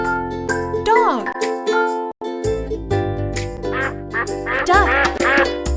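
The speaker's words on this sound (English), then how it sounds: "Duck." A duck quacks repeatedly in short nasal bursts, a few early and a quicker cluster toward the end, over bright tinkling children's music.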